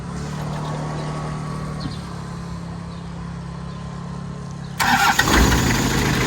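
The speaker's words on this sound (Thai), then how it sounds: "สตาร์ทเชิงเดียวติดครับ" A car with a Mighty engine starts on the first try: a low, steady hum runs for several seconds, then the engine catches with a sudden, loud, rough roar that carries on to the end.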